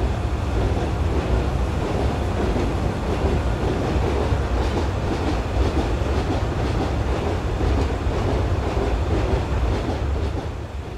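A train in Train Simulator 2016 rumbles steadily along the Albula Line tracks in Switzerland with a continuous low roar and faint rhythmic clatter, close and loud throughout with no voices.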